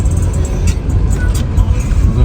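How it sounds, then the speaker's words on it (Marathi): Heavy street traffic near a railway station in London: a steady, loud rumble of cars and buses passing close by, continuous throughout with no clear pauses. "इथं ट्रॅफिक आहे खूप आता"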